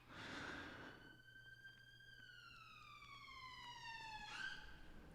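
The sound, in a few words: ambulance siren passing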